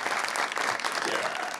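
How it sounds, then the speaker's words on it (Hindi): A studio audience at an Eid-ul-Adha special show claps in a brief, steady burst of applause, close and even, with no voices over it. "इब्रार भाई के लिए जोरदार तालियां बजाइए"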